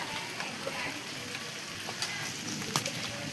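Heavy night rain falls steadily outside a home, a dense, even hiss of drops hitting surfaces with occasional louder splashes, continuous for the whole stretch.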